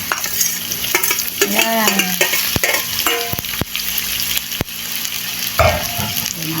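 Meat sizzling hard in a hot pan for pancit bato, loud and close, with scraping stirring strokes and a few sharp utensil clanks, plus a brief spoken word.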